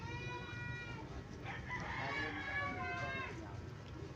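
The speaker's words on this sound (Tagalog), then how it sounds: "Marami din silang mga alagang mga manok na pangsabong." Gamecock roosters on a farm crow a few times at a distance, drawn-out calls rising and falling over a low rumble of background noise.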